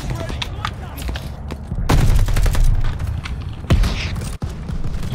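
Gunfire in the Call of Duty Vanguard video game, bursts of rapid shots and booming blasts over rumbling battle noise, loud and dense throughout.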